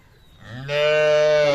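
A single loud moo from a dairy cow among calves at a cattle market in Dinajpur, starting low and swelling into a long sustained bellow close by.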